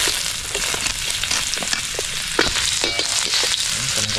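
Cooking oil sizzles and crackles steadily in a pan, with a dense hiss and scattered pops and spatters throughout, close up and without talking.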